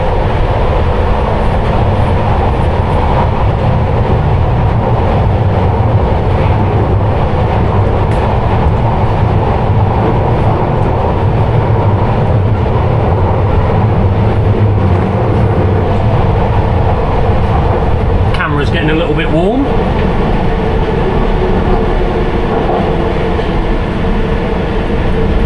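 A London Underground Piccadilly line train heard from the rear cab, a loud, steady rumbling roar of running through tunnel, with a brief squealing, clattering passage near the end.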